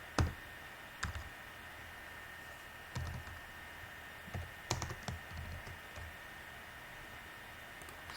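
Sparse typing on a computer keyboard, a few isolated key clicks and short bursts of tapping spaced over several seconds, faint and close against a steady background hiss, no voices.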